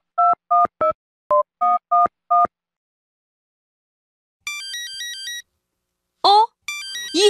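A mobile phone ringing inside a bag, heard as a series of short evenly spaced electronic beeps followed by a warbling melodic ringtone pattern, clear and close with silent gaps between bursts.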